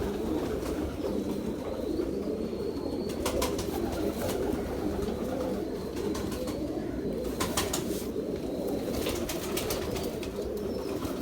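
Pigeons cooing continuously in a loft, with a low, layered murmur of soft calls and several bursts of wing flapping nearby.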